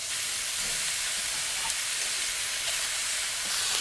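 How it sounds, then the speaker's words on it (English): Wagyu beef short ribs, heavily marbled, searing in a hot pan give off a steady, loud broadband hiss and sizzle that holds unbroken with no pauses. "we're going to actually throw the beef into the pan. We're going to sear it."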